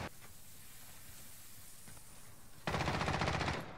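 A Grau 5.56 rifle in Modern Warfare fires one short rapid automatic burst, sharp and dense, breaking out of a quiet, faintly noisy background.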